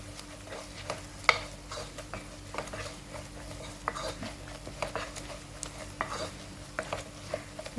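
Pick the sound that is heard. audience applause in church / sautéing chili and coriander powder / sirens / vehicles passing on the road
sautéing chili and coriander powder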